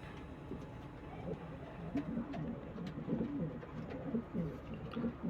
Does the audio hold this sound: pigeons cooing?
yes